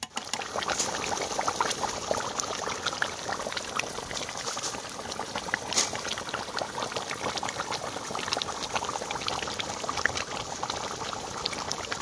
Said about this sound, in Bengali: এবার এটাকে ফুটতে দেবো ভালোভাবে, তারপর সিদ্ধ হয়ে গেলেই আমরা নামাবো।